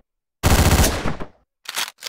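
Rapid automatic gunfire from the video game Hotline Miami, a loud sustained burst of about a second that trails off, then silence, then two shorter bursts close together.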